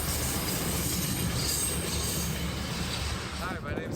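A commuter train rumbles steadily past up close near homes in Westmount, Quebec, a loud broadband roar with rail squeal, fading slightly near the end.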